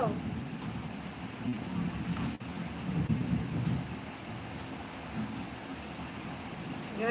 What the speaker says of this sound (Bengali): প্রচুর বৃষ্টি হচ্ছে এত আকাশ ডাকছে